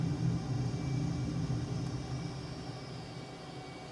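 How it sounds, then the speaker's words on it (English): Helicopter turbines running in the Microsoft Flight Simulator 2024 video game, a steady droning rumble with a faint high whine that holds evenly and fades slightly toward the end, with no talking. "But I still hear the turbines going."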